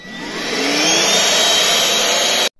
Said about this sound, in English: this is a brand new Hoover now.